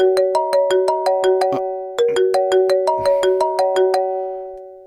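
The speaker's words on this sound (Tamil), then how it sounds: "இசைதான் போன் பண்ற" A mobile phone rings for an incoming call in a Tamil TV serial, a bright repeating electronic melody of quick tonal notes played twice, loud and clear with no talk over it.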